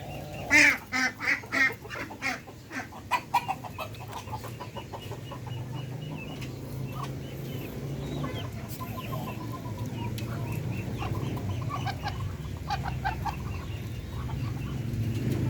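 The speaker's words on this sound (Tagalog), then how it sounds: "magaganda naman yung mga katawan ng mga bibi natin pati yung mga manok" Ducks and chickens on a Filipino backyard farm raising darag breeders: a burst of loud, close quacking and clucking in the first few seconds, followed by a continuous murmur of fowl chatter across the rest.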